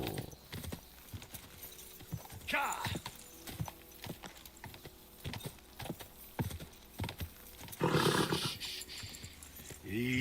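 Horse hooves clip-clopping at a steady walking rhythm in the medieval game Kingdom Come: Deliverance 2, close and clear, with occasional louder snorts and bursts of noise.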